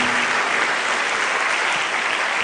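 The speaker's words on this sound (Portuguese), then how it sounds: "Vamos aplaudir o Senhor Jesus?" A church congregation applauds together during worship, a dense, steady wash of clapping from many hands that holds at an even loudness from start to finish with no voices breaking through.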